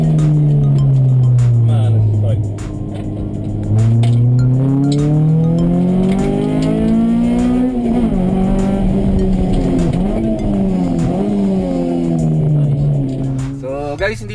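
A 2000 Honda Civic SiR engine revs loudly and continuously, its pitch climbing and dropping through repeated throttle blips, close up, with people talking over it.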